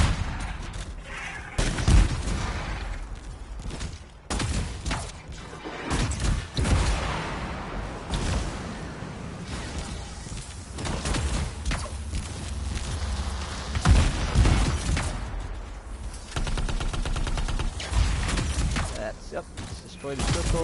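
Rapid gunfire and crystal-shattering bursts from the video game Anthem, dense and loud throughout with repeated sharp impacts and rumbling blasts, a voice talking over the action.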